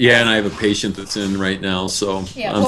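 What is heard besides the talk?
None of the usual background noises is heard.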